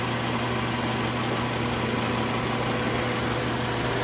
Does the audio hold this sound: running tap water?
no